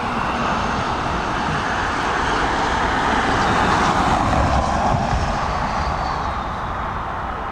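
A Loganair aircraft at Dublin Airport produces a broad, steady engine roar that swells slightly in the middle and then eases, heard from a moderate distance with no voices.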